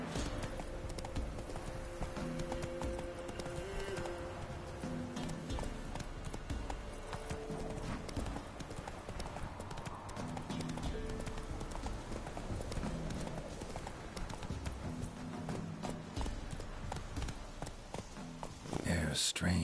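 Horse hooves clip-clop at a steady walking rhythm in The Witcher 3 video game, continuous and moderately loud under game music and a voice.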